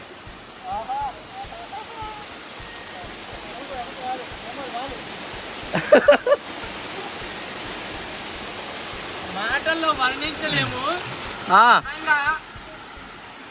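Steady rushing roar of the Kondapalli waterfalls fills the background while several people talk and exclaim over it.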